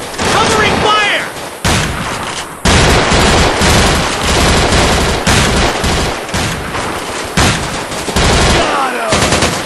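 Automatic gunfire from the Vietnam War shooter Vietcong rattles in loud, sustained bursts of rapid shots, with brief breaks and heavy booming impacts. Faint shouting may sit beneath the shots.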